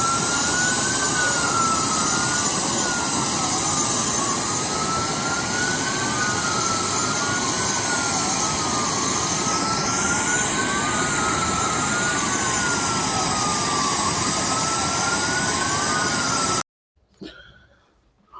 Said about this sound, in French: C'est cet avion que Félix Tshisekedi a acheté, sont en train d'arriver en RDC.